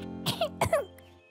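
A short, sharp double cough from a cartoon character up close, two quick bursts followed by a brief fading tail.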